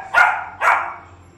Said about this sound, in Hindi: भौंक रही है वो।